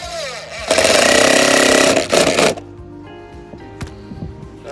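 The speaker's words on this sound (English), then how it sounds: "these are self-tapping screws, so it should go right through" A self-tapping screw is driven by a power drill through the edge of a gutter guard, a loud buzzing whine for about two seconds that then stops, followed by quieter handling knocks.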